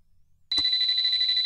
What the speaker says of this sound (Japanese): 携帯電話が鳴り出した。